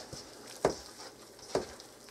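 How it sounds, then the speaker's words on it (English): Pasty dough is stirred by hand with a cup of water, giving two soft, wet squelching slaps about a second apart over a quiet background hiss, close and faint. "my one cup of water. And I'm just going to mix and mix and mix."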